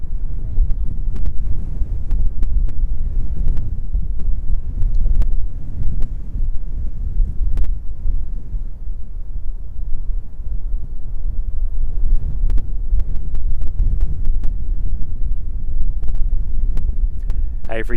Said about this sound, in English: that wind is just ripping through